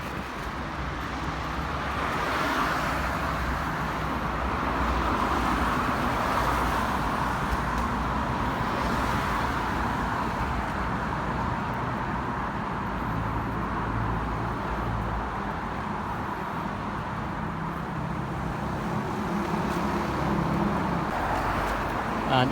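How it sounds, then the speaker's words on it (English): Steady road traffic of cars and motorbikes travelling at speed along a road in Bukit Batok toward Toh Guan, Singapore, forming a continuous broad roar with no clear gaps. "This area you can see the traffic."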